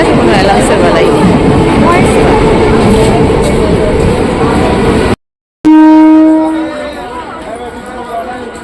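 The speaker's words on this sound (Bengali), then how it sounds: "ট্রেন ঢুকে গেছে, কোনো অ্যালাউন্সের বেলায় নেই।" A train pulls into a station with a loud, steady rumble amid crowd noise and people talking, then, after a short break, high sustained squealing tones ring out before the sound fades.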